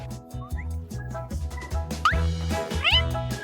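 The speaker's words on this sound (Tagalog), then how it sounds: "Ang cute na kuting!" Kitten meows in an animated cartoon, a few short rising cries set over bouncy background music with rhythmic low beats, fairly loud and close.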